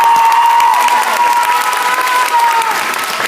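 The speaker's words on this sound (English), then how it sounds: "So let's give them a big round of applause." Crowd applause and cheering fill a school pep rally gym, a dense, steady wash of clapping with shouts mixed in, loud and close throughout with no pause.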